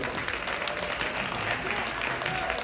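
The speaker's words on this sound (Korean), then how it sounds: "박수 한번 주시기 바랍니다" Steady applause from a large crowd at a bullfighting match in Jinju, South Korea, a continuous wash of clapping with no breaks, fairly loud and close.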